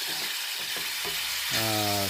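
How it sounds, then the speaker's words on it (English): Steady, close sizzling of mixed vegetables and beef frying in a hot pan in a campervan, with a few soft stirring scrapes and a voice briefly heard near the end. "frying the rest of the ingredients, which was the mixed vegetables and the beef"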